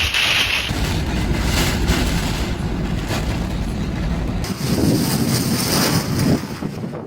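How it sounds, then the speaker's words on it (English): Typhoon winds buffeting the mic over Japan's southern islands near Okinawa, a loud continuous roar and rush with surf-like surges, no talking. "A deep, relentless roar grows louder as powerful winds sweep across Japan's southern islands."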